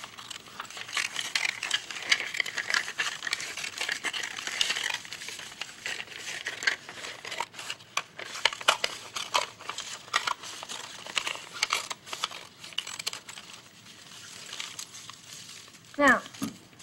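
Scissors snip through a paper loop, a crisp, dense crinkling and rustle of cut paper running steadily throughout, fairly close, with people talking intermittently over it and a sharp squeak near the end.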